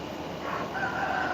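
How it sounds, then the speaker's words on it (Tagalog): A rooster crows at about 3:50 in the morning, one drawn-out cock-a-doodle-doo heard at moderate distance over a steady background hum, with no talking. "Ayan, tumitilaok na po ang manok, Mami Ellen and Oman"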